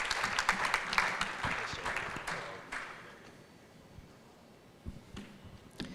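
An audience at an India–Canada education conference applauds a speaker coming to the podium: dense clapping that gradually thins out and fades, with a few scattered claps near the end.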